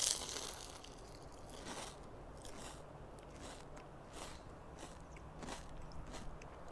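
A crunchy sfogliatella pastry being bitten into, a quiet close-up series of crisp crackles and flaky crunches with no talking.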